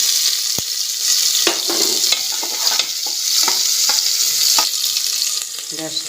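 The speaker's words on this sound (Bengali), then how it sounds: "দেব পেঁয়াজ কুচি।" Chopped onion fries in hot oil with cumin, chilli and bay leaf in a pressure cooker, giving a steady bright sizzle alongside repeated scraping and stirring knocks, with no talk.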